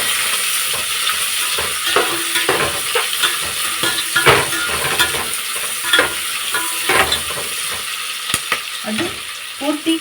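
Onions and green chilies fry in a pan for chicken biryani, with a constant bright sizzle and frequent scraping stir strokes of a utensil against the pan, close up and without talk.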